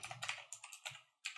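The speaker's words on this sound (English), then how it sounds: "if I can type it out" Quick bursts of keystrokes on a computer keyboard while a Python script is entered, close and fairly loud, in uneven clusters with a short pause before a final burst.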